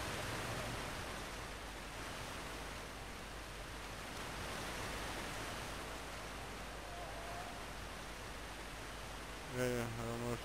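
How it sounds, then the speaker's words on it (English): Steady broadband rush of a waterfall in the video game Dead Island Riptide, a constant roar filling the whole clip, with a brief voice-like tonal sound near the end. "There's a waterfall."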